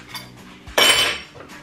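Ceramic dishes and cutlery clatter and clink as a dishwasher is loaded in a home kitchen, with one louder crash of plates in the middle over low background noise.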